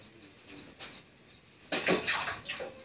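Water is poured into a pot of spinach soup with anchovy, a splashing gush arriving after quieter moments, close and moderately loud, with faint background sounds.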